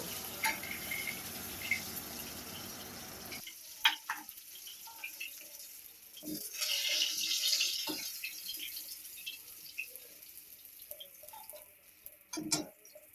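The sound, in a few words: chopped onion and green chilli frying in fish-frying oil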